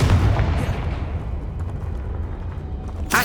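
Confringo spell blast in Hogwarts Legacy: a loud, booming fiery explosion with a rumbling low tail that rolls on for a few seconds, followed by a second sharp burst at the end.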